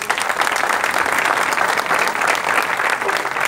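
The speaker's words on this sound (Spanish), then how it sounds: "También pido el aplauso para ella." An audience applauds at the inauguration of a regional office, with loud, sustained clapping from a crowd that stays even from start to finish.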